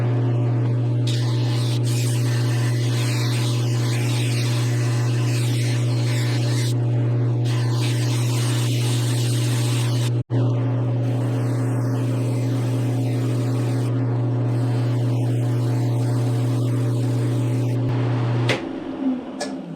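A Celtic knot wooden rolling pin is sanded with 80 grit, likely on a lathe, giving a loud, steady motor hum with a rasping hiss that runs without pause until it winds down at the end.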